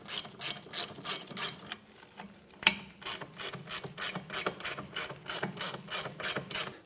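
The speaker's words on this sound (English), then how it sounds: "now with a 14mm socket, we'll tighten these down." Steady ratcheting clicks from a ratchet wrench with a 14mm socket snugging caliper bolts on a 2011-2016 Hyundai Elantra, repeated bursts in a regular rhythm, close and clear with a brief pause midway.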